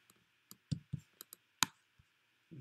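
A computer keyboard gives scattered light clicks and taps at close range, a handful of irregular keystrokes over a faint steady hum.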